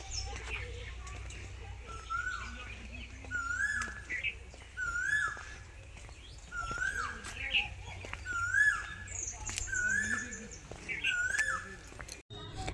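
A koel repeats its rising call again and again in open green rural fields, clear over a low steady rumble, with other birds chirping faintly around it.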